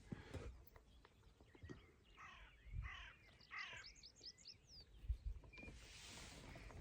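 Faint bird calls chirp and trill in the middle of a quiet outdoor moorland scene in the North Yorkshire Moors, with scattered rustles and low thumps around them.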